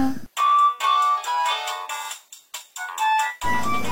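A mobile phone rings nearby with a loud, bright electronic melody of repeating tonal notes, broken by brief gaps, and no one speaks over it.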